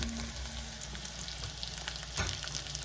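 Large onions sizzle steadily in a pan as they fry for a shark curry. The frying is close and continuous, with a brief clatter of stirring near the end and no talk.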